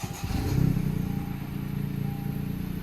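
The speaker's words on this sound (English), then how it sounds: "Tim's about to turn this car on with no exhaust, see what it sounds like." A Honda Civic Si engine firing up with no exhaust fitted, a steady mid-pitched idle rumble with a brief rise near the start, close and fairly loud throughout.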